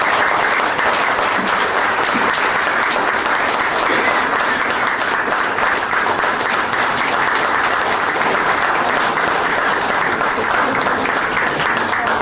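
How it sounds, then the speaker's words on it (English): Audience applause fills a retirement ceremony for a bank chief manager, a steady, dense wash of clapping hands that runs unbroken at full strength from start to finish. "Please put your hands together."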